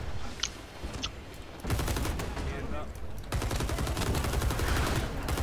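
Rapid video game gunfire begins after a quiet, faint opening, then rattles in two long bursts of quick repeated shots, loud and close, filling the rest of the moment.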